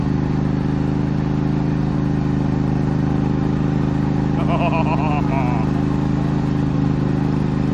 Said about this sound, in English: In case you couldn't tell, the Roadster is running.